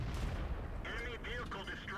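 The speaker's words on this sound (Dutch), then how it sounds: "Met mijn tweede schot weet ik hem te ammo racken." A Hellcat tank destroyer's cannon fires in the World of Tanks video game, a loud close boom with rumbling, clanking aftermath and sharp metallic pings.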